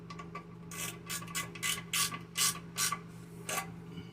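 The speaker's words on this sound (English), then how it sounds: "Give it a couple cranks on one side, a couple cranks on the other side" A ratchet cranks toilet bolts tight during a wax seal replacement, giving a series of short, close rasping clicks in uneven bursts over a steady low hum, with no talking.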